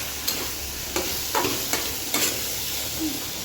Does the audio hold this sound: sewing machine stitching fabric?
no